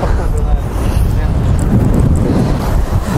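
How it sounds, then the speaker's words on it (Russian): Strong cold winter wind on a beach at Katsiveli, roaring and buffeting the microphone continuously and loudly, with a low rumble of surf underneath. "Такой сильный холодный ветер."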